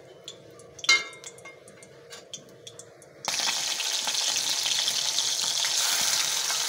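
Small pieces of fish, rubbed with salt and turmeric, go one by one into hot oil, and a loud, steady sizzle takes over after a few light clinks and taps near the start.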